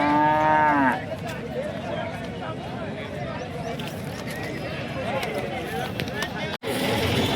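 At a busy buffalo market, a buffalo lets out a loud, drawn-out low moo up close, followed by a constant crowd murmur with scattered voices and animal sounds throughout.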